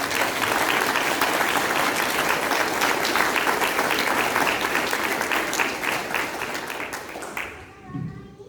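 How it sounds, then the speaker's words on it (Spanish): A church congregation at a Sunday service breaks into sustained, dense applause that fills the room, then fades out toward the end. "¿Puedes dar un aplauso al Señor?"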